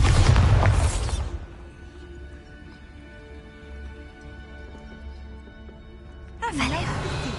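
A Bombarda spell explodes in Hogwarts Legacy with a loud booming burst at the start, followed by a quiet stretch of ambient game sound and then a second rushing impact near the end.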